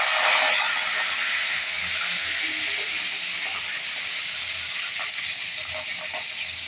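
Curry leaves dropped into hot oil with mustard and fennel seeds for a Tamil chicken gravy, giving a loud, steady close sizzle and hiss with light crackles throughout.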